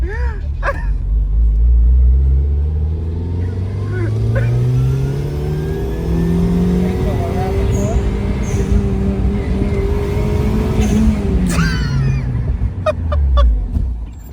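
Mazda Miata on race tires with fresh pads braking hard, a loud engine drone and rumble falling in pitch as the car slows, with tire and road noise throughout.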